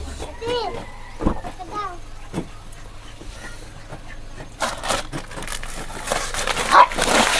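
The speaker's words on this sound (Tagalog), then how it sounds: "makamagat tong aso." A dog barks a few times nearby amid outdoor background noise, with people and children talking around it.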